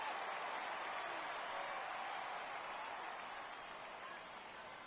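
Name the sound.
baseball stadium crowd cheering a fly ball in video game MLB 15 The Show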